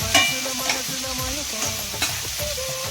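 Dry fish curry with ridge gourd fries and is stirred in a pan, giving a steady loud sizzle with scraping stir strokes and small spatters, close up and without talk.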